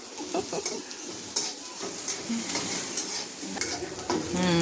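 Sliced onion sizzles steadily in a hot pan while a spoon scrapes and stirs it, for a Maharashtrian vadi recipe: continuous close frying hiss with repeated stirring strokes and occasional clinks, no talking.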